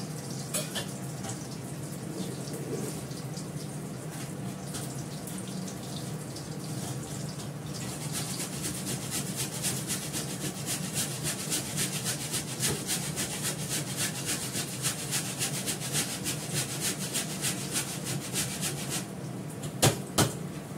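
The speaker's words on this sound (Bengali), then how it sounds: "একটু আদা ঘষে নেব" Fresh ginger is rubbed against a kitchen grater in a long, steady run of rapid rasping strokes, close and fairly quiet, growing a little denser midway and ending with a couple of sharp knocks.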